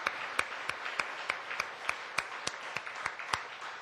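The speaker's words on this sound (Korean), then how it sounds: "우리 하나님께 영광의 박수 한번 드려요." Congregation in a church clapping together in praise, a steady broadband wash of many hands with sharp rhythmic accented claps standing out at regular intervals, fairly distant and moderate in level.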